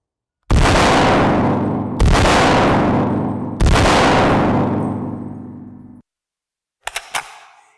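Three loud, close semi-automatic shots from a Springfield Armory M1A rifle with a muzzle brake, spaced about 1.5 seconds apart, each with a long decaying echo, then a few faint metallic clicks.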